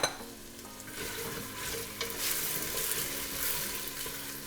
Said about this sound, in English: We're gonna saute that so it gets a little translucent.